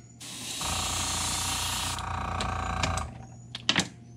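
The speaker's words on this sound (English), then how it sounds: "we're going to spray our gray up over the top of that magenta" Gray paint sprayed from an airbrush onto a crankbait fishing lure: a steady, close hissing spray lasting a few seconds, followed by a few short clicks and bursts.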